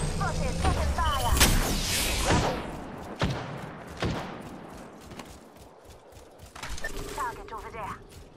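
Gunfire in the Apex Legends video game: bursts of loud shots and heavy thuds over the first few seconds, then scattered single blasts, with in-game voice lines and interface chirps mixed in.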